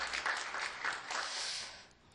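A church congregation applauds the praise team after a Friday worship service, a soft, fairly distant patter of many hands clapping that fades out over about two seconds.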